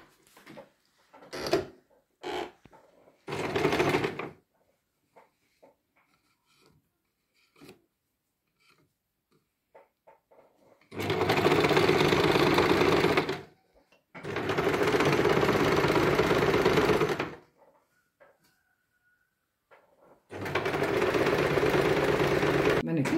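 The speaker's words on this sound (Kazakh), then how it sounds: "Қазір осы тігіп жатқанымды көрсетемін сіздерге." A sewing machine stitches a seam on a kimeshek headdress, with several sustained loud whirring runs lasting a few seconds each, broken by quiet pauses with small handling clicks.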